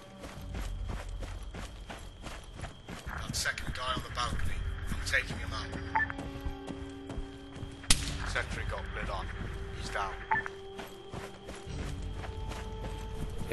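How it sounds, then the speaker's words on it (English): Machine gun fire in the ArmA 3 military shooter, sounding as repeated sharp bursts at moderate distance with a sharp crack near the middle, mixed with footsteps and movement while voices talk over it. "That machine gun is close to your position."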